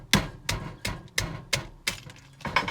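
Hammer striking a riveted copper-bearing part to split it apart, six or seven sharp metallic blows in a steady rhythm, close and loud, with no talking.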